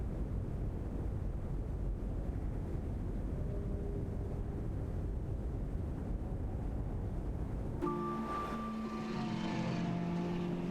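Airplane flying in the Puzzle Agent video game: a steady, droning engine rumble with wind-like hiss fills the scene, joined near the end by brighter tonal hums and musical notes.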